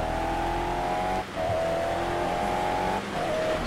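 Corvette engine in the racing video game Toca Race Driver 3, droning steadily at high revs with brief dips like gear changes, loud and continuous with no talk.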